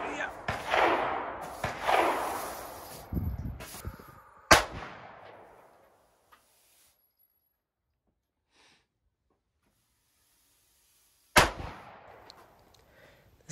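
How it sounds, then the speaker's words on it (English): Several sharp gunshots from handheld guns fired outdoors, a few loud cracks spaced a second or two apart with echoing tails, then a long quiet gap before one more close, abrupt shot near the end. "This final little gun we call the James Bond gun."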